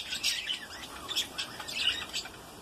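A breeding pair of budgerigars in a cage chirps and squawks with quick, bright, overlapping calls, fairly close and moderately loud, with a low room background and no voices.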